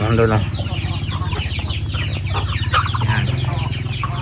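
Heritage chickens such as Rhode Island Reds clucking close by in a farm setting, a dense run of repeated clucks and squawks from several birds throughout.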